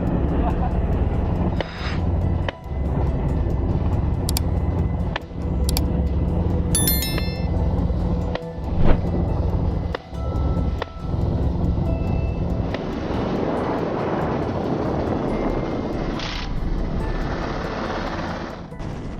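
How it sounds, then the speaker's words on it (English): A helicopter flying low over a herd of wild boars, its steady loud rotor and engine roar filling the whole stretch, with a narrating voice over it. "The pilot quickly lowers the altitude, flying the helicopter right above the herd of boars"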